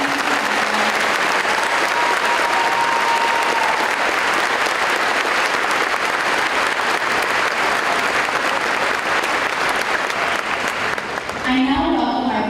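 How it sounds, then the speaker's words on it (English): Audience applause fills a high school graduation ceremony hall, dense and loud, a continuous wash of clapping sustained for the whole stretch, with a voice faintly audible near the start and the end. "Please join me in giving a big round of applause for our"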